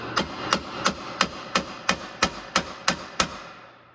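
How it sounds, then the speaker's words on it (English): A hammer strikes the lower ball joint stud of a 2011 Hyundai Santa Fe ten times in an even, steady rhythm, each blow sharp and ringing, close up with no talking. "Then we can take a hammer, and you can just hit it right on the stud."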